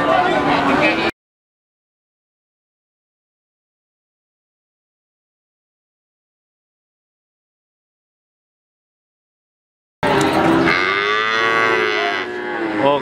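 Cattle moo at the Blora cattle market early in the morning while the market is still quiet, with one loud, drawn-out low call after a long silence and a brief loud burst at the very start.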